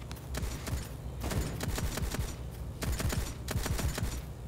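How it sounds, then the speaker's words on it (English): Rapid bursts of gunfire in a Fortnite-style Bedwars video game match, clustered volleys of sharp shots repeating across the clip with short gaps, loud and busy against a dense game soundscape. "Oh, they're shooting at me."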